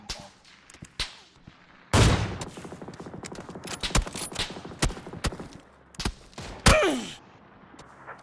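Gunfire in the PUBG snow map arrives as scattered sharp shots and rapid bursts, some loud and close, others distant, with a louder volley midway and grunting voices among them.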